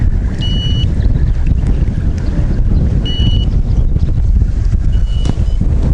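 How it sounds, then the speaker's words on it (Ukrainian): Strong wind after a rainstorm buffets the microphone outdoors on a fishing trip with a loud, steady roar, with faint whistling tones and water sounds in the background. "Трохи вітер заважа, трохи вітер здуває його трохи"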